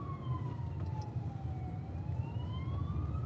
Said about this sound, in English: Oh, actually, that's the fire truck ahead of us.